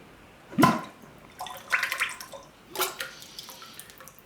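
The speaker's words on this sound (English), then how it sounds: "just let excess glaze run off" Excess tenmoku glaze drips and splashes off dipped ceramic tea bowls in a few separate wet plops and trickles, quiet and close, with no talking.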